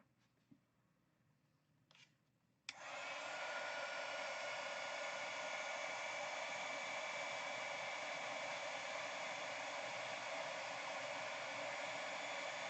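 A heat tool switches on with a click and blows a steady, strong airy whoosh while heat setting embossing powder on a crafting project, preceded by a few faint small handling sounds.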